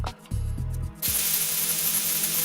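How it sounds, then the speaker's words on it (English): A spray can releases a loud, steady, continuous hiss in the video game Metal Gear Solid 2. It follows a few short mechanical clunks and keeps going without a break. "Hay que pulsar el cuadrado muy fuerte para que eche spray la mierda esa."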